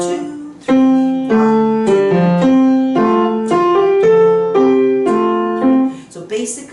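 A piano plays a short minuet melody with quavers, a steady sequence of clear notes over bass notes lasting several seconds and ending with a couple of final notes, loud and close.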